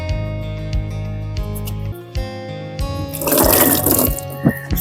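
Water is poured to wash between a patient's fingers during foot and hand care for filaria, starting as a low hum, then turning into a splashing trickle near the end.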